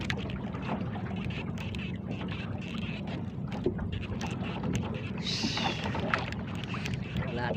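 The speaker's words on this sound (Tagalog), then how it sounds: "Paluko-luko ang makina." A boat engine chugs with an uneven, rough rhythm under wind and water noise, fairly close and steady throughout.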